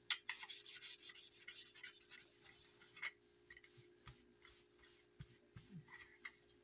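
Rubbing and polishing on a Remington 1875 CO2 4.5 mm air pistol makes a close, quiet rasping scrub in quick back-and-forth strokes that fade into lighter scattered rubs and taps.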